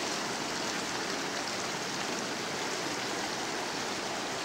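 A small mountain stream flows beside a campground meadow, giving a steady, broad rushing wash of water that stays even and close throughout with no other sounds.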